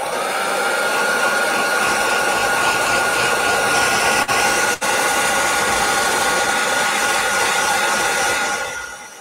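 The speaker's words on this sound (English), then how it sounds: "So let me grab the heat tool" A handheld heat tool blows steadily and loudly to dry watercolor paint on a clover field painting, with a continuous whooshing roar that dips twice briefly and then fades at the end.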